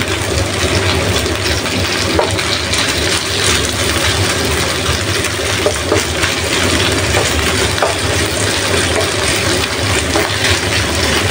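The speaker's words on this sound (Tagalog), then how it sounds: "I-fry lang natin yung ating breast chicken." Chicken breast sizzles and fries in a hot pan, a dense steady hiss with occasional crackles and light stirring, close and continuous with no talking.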